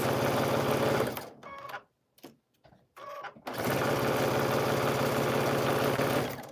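A sewing machine stitches quilt pieces in a loud, rapid, steady whir, drops into a few short stop-start bursts, then runs continuously again until the end.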